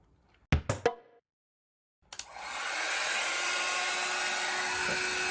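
A few knocks and a clunk, a short silence, then a hair dryer switches on and blows a steady loud whoosh with a faint whine while drying a child's hair.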